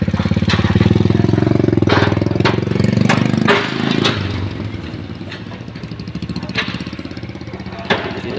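A motorcycle engine passes close by on a village road in barangay Santo Niño, running loud with a steady low throb for about four seconds before fading and receding into the distance.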